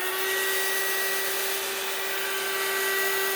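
A hair dryer blows steadily and loudly to dry a sparkly craft project, a constant whooshing roar with a high whine and no pauses.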